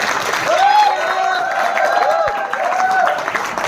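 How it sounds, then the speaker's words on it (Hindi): Audience at a digital marketing training meeting applauds for Mr. Mayank, a steady wash of clapping with murmured voices and tonal calls mixed in, continuous and moderately loud throughout. "थोड़ा big clap for mister Mayank."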